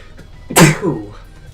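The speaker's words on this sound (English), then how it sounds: "Gonna mute that noise because I hate sneezing" A single sharp sneeze bursts out close by, brief and loud, against a quiet background.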